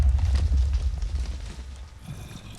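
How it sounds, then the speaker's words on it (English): An explosion in a modded video game, the Lethinos mod, gives a loud, low booming rumble that starts strong and slowly fades away over a few seconds, with no voices. "It's not as big an explosion as you think it would be, but it's an explosion."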